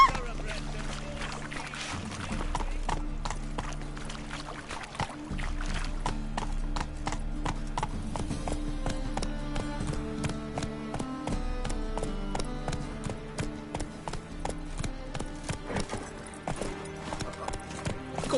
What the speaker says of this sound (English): God, a racehorse.